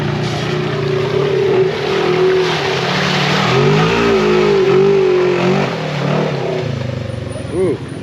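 A Mega Jeep's engine revs loudly and continuously, its roar rising and falling through several throttle swells while the vehicle is stuck, with a brief whoop near the end.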